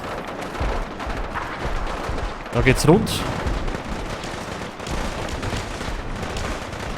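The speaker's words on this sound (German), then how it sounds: "Aha, wir hören Schüsse." Gunfire in the video game Fallout 4: a short cluster of sharp, booming shots erupts mid-clip over a steady background of game noise, while someone talks over the action.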